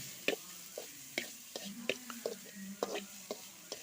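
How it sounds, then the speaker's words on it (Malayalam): A spoon scrapes and taps through a microgreens paste in a pan, giving a run of quiet, irregular clicks and scrapes over a soft sizzle, close by and with no one talking. "ഒന്ന് ഇളക്കാം"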